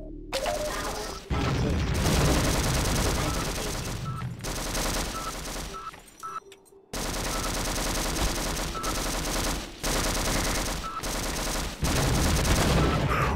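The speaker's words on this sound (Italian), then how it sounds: "Mi è sparato con quel cazzo di cannone in mezzo alla mappa." Cannon and heavy gunfire in the video game Sven Co-op on a Warforts map, loud bursts of rapid firing broken by brief gaps and crashing impacts.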